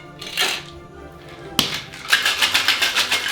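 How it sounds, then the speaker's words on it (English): Cocktail shaker with ice, lemon juice, honey ginger syrup and Scotch, a sharp hit then a run of rhythmic rattling shakes, loud and close. "Give that a shake."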